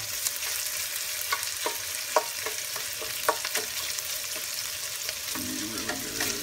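Bacon fat rendering in a pan, a steady loud sizzle and crackle that runs unbroken, with small scraping stirs ticking through it and no voices.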